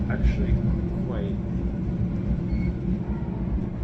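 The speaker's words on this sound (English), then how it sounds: "The train is going up pretty steep." A cog railway train climbs a steep mountain track, giving a low continuous rumble and hum with faint squeals, while a person talks over the steady mechanical drone.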